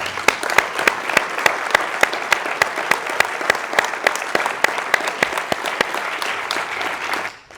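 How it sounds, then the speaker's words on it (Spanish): Sustained crowd applause for members of a Catarroja flood victims' association after the DANA disaster, a dense, steady wash of clapping with sharp individual claps standing out, holding level for about seven seconds before cutting off abruptly. "Os quiero pedir a todos un fuerte aplauso para ellas."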